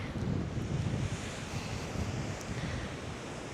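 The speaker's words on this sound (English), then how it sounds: "That's Atlantic Ocean, and right now we are already in County Kerry" Atlantic Ocean surf and wind on the County Kerry coast in the west of Ireland in November: a steady, full roar of breaking waves mixed with wind buffeting the microphone, continuous and close, with no voices.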